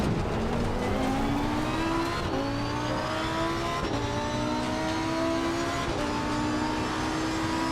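Ford Mustang race car engine in a sim racing game at Spa-Francorchamps, revving hard and steadily climbing in pitch through repeated gear shifts, loud and continuous with no talk over it.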